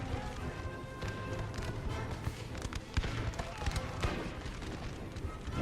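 Howitzer artillery batteries firing in an American Civil War battle video game, heavy booms and thuds scattered through a busy, noisy battlefield din, with several dull impacts standing out.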